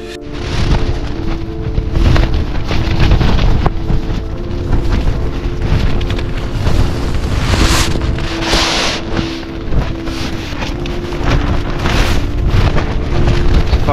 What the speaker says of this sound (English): Very heavy wind and rain.